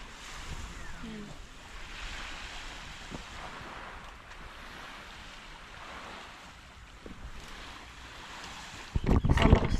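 Surf washing onto a beach at Pantaw in Albay, a steady broadband wash of waves mixed with wind buffeting the microphone, with a louder rough gust at the very end.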